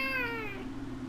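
A cat's meow from a Minecraft-style survival game, one clear falling harmonic cry about half a second long, close and alone over a steady low game hum.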